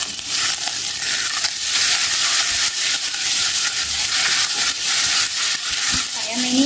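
Ginger garlic paste spits and sizzles as it hits golden fried onions in a hot pan, a steady loud hiss with scraping stirs throughout and a brief voice murmuring at the end.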